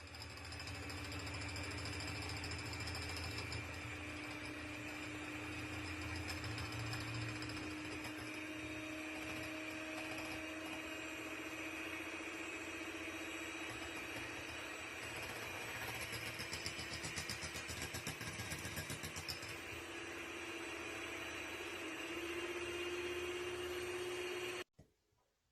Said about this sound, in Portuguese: vamos bater aqui com o batedor aqui, ó, com essa batedeira elétrica para fazer o chantilly